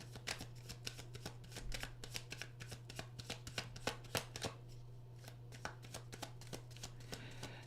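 Tarot cards being shuffled in rapid, crisp bursts of riffling and slapping, close and fairly loud, running continuously over a steady low hum with no talking.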